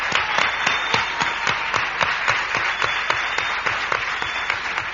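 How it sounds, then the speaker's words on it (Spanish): An audience applauding during a live event in Ceuta: dense, continuous clapping with individual sharp claps standing out, moderately loud and steady with no talk. "yo quiero de verdad darle un fuerte aplauso"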